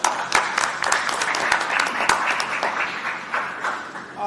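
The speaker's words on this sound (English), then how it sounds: "Let's give them a round of applause." An audience at a state COVID-19 drive-through testing site opening applauds the National Guard: a burst of many hands clapping, a few sharp claps standing out near the start, then a steady patter that thins slightly toward the end.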